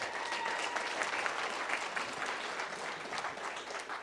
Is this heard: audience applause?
yes